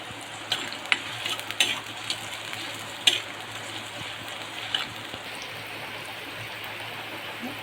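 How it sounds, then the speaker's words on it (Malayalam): Onions hit hot oil in a pan and crackle with a steady sizzle, broken by sharp scraping taps of a stirring spoon, close by and fairly quiet. "എണ്ണ ചൂടായിട്ടുണ്ട്. അപ്പം നമുക്ക് ഇതിനകത്തേക്ക് ഉള്ളി ഇട്ട് കൊടുക്കാവേ."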